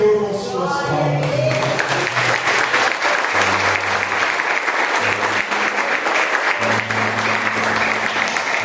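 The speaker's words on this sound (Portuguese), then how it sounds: "exalte ao Senhor com suas palmas" Church congregation applauding together during a Sunday worship service, steady sustained clapping filling the room with a background musical tone underneath.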